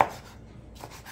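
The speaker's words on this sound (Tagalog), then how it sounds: "Pag natanggal mo yung buto, saka mo hiwain ng palapad." A knife slicing deboned food into flat pieces on a board for a sauté base, one sharp cut at the start followed by faint, soft scraping.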